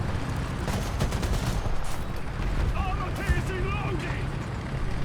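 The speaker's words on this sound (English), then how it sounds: "As if I can get one shot out before he shoots me again" War Thunder tank battle with heavy rumbling gunfire and dull booms over a constant engine roar, someone talking over it throughout.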